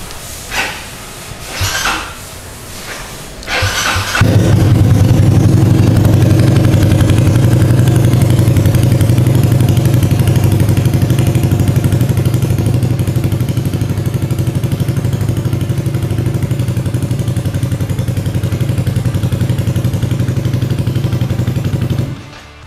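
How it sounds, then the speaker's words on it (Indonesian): A red racing-themed Yamaha NMAX scooter fitted with a genuine Akrapovic exhaust starts after a few clunks, then idles loud and steady with a deep throbbing rumble until it cuts off near the end. "motor ini memakai knalpot Akrapovic dan ini Akrapovic beneran ya"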